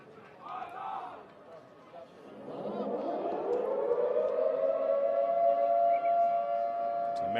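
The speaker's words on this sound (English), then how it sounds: "Now, you've heard the siren go off." A loud siren winds up and holds a steady wailing tone over crowd noise and indistinct voices in a large open space at a school sports game.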